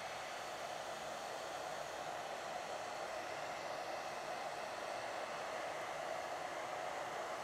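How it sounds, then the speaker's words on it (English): A 1500-watt hair dryer set to hot and high, aimed close at heat-shrink tubing on wire, blows with a steady, unbroken whooshing roar, even in level from start to finish. "And I've got my hairdryer. So I'm going to set it on hot and high"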